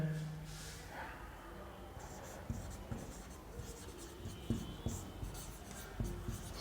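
Marker or chalk writing on a classroom board, repeated short scratchy strokes in an irregular rhythm, close and moderately quiet, with a faint background hum.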